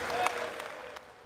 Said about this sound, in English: Yay, let's clap Elise for Stefanik